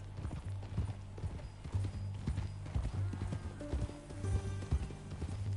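Horse hooves clip-clopping at a walking pace in Red Dead Redemption 2, with a brief neigh partway through, over a low steady hum and occasional voices in the background.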